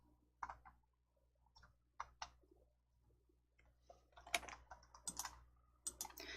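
Computer keys tap sparsely at first and then more densely, with a few sharper clicks, close and quiet, as the Alt T shortcut is pressed; no one speaks.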